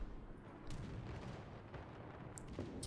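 Battleship main guns firing in the naval video game World of Warships, a dense low rumbling barrage of booms with sharp blasts near the start and toward the end, loud and without talk.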